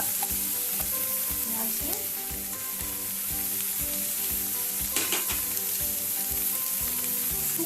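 Onions sizzle and fry steadily in a pan for Goan-style chicken vindaloo, with a utensil pushing them about in repeated scraping strokes, loud and close, and a brief spoken word partway through.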